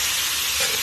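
Pancit guisado with garlic and soy sauce being stirred in a hot pan, a steady broadband sizzle with scraping texture running continuously through a brief moment, close and fairly loud, no voices.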